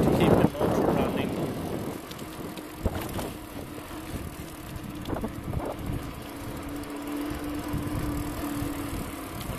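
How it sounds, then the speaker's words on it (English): Motor of a home-converted electric bicycle running on motor power at about 22 km/h while the cranks spin freely, a steady low hum with a faint rising whine, under heavy wind buffeting across the microphone. "this is motor only now. I'm just spinning the cranks to keep the motor running"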